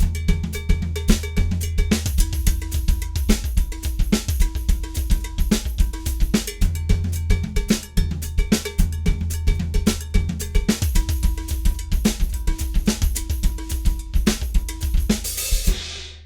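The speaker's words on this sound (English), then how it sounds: "right hand on floor tom, left hand on cowbell, and then seeing what that does" Swiss triplet sticking split between a floor tom under the right hand and a cowbell under the left, one drummer playing a busy, steady run of loud, close cowbell clanks over low tom thuds, with no talking.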